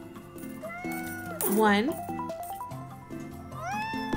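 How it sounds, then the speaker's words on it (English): Cartoon cats meow repeatedly in the street-builder video game Minami Lane, several short rising and falling mews, one louder and drawn-out, under a person counting and chatting over light game music. "We are going to be overrun with cats."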